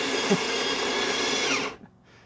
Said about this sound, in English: That's the coffee grinding, obviously.